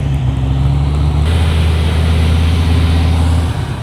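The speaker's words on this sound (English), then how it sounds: "This Viper sounds so crazy." Loud, steady low rumble of a Dodge Viper engine idling at a car meet, close by and continuous with no talk over it.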